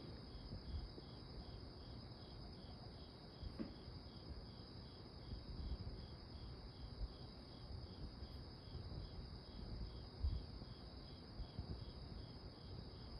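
A cricket indoors chirps in a steady, rapid pulsing trill that runs unbroken through the whole stretch, faint and even over a quiet room background with occasional small bumps.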